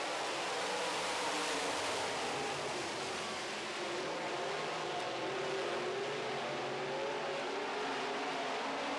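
Modified race cars in a short heat on a track, with a steady, distant, massed engine roar that holds without a break and no commentary audible.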